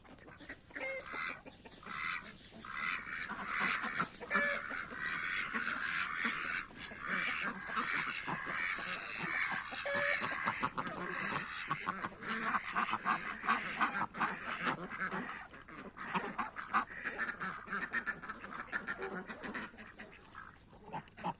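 A flock of ducks, including crested black ones, quacking continuously, mixed with clucking geese and other fowl, fairly close and busy throughout.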